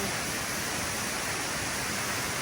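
Rushing water at Consucep Waterfalls, a dense, steady roar of falling water that stays constant and fairly close throughout, with no voices over it.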